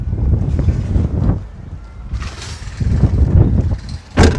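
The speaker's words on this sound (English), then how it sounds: "It's quite windy" Heavy wind buffets and roars across the microphone in uneven gusts, with a sharper rustling burst near the end.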